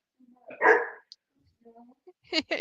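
A dog barks at close range indoors at night, with a loud burst followed later by a couple of quick sharp barks, and a person speaks between them.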